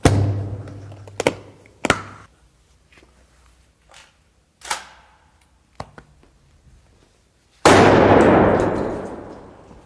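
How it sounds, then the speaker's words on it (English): A 12-gauge shotgun fired at a Pelican hard case outdoors: scattered sharp thuds and taps come first, then a single loud blast that rings out and decays over about two seconds. "Officer Gaines here is going to see what he can do with his 12-gauge shotgun"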